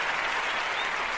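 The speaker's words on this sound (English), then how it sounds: "I'm giving him the hand claps because he got a job." Steady, dense applause with hand claps filling the moment, continuous and even in level without breaks.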